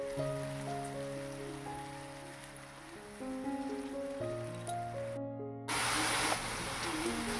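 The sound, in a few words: ginger garlic spice paste frying in a pan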